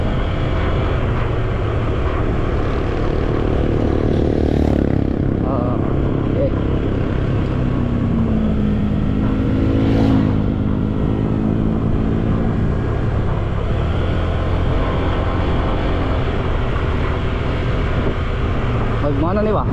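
A motorcycle ridden on short rural road trips around Cagayan de Oro, its engine a steady droning hum with subtle pitch shifts throughout, under a rider's intermittent talk and wind noise.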